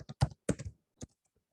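Typing on a computer keyboard to enter a name: a quick burst of close, crisp key clicks, about seven strokes in under a second, then a pause and one final tap.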